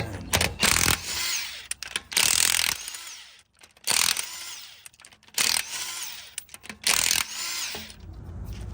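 A power tool removes a car wheel during mobile mechanic service, firing in several loud, close bursts of whirring and rattling with short pauses between them.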